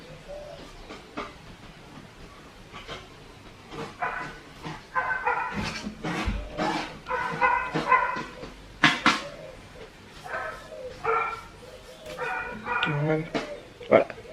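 A dog barks and yips in short repeated bursts at moderate distance in a noisy Guadeloupe setting, with people talking throughout and clattering nearby.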